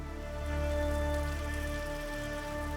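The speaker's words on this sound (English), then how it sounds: "the downpour just got heavier." Steady heavy rain pours down at a remote cottage in Northern Ontario in a continuous wash, with a low rumbling backdrop and a faint hum running through it.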